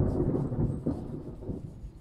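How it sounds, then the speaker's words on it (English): Thunder rumbling from a storm near a horse stable, a deep rolling roar that swells and fades over two seconds, fairly loud with no talk. "that was thunder"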